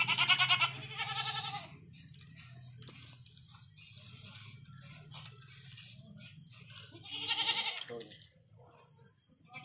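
Goats bleat in repeated calls at a farm with Teddy and Beetle-type goats kept in pens, several loud bleats near the start and again later, with quieter bleats, rustling and some talk in between.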